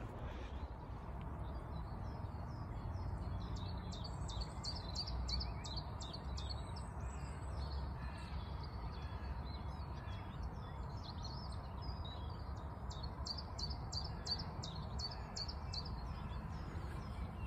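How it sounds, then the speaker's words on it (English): A chiffchaff sings in spring along the River Avon trail near Bristol, beside blossoming hawthorn. Two runs of quick, repeated high notes come from a moderate distance over a steady low outdoor rumble. "So that's the return of the chiffchaff"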